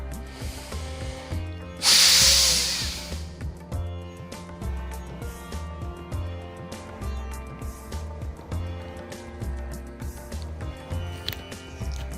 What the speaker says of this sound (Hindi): अब श्वास को पूरा बाहर निकालेंगे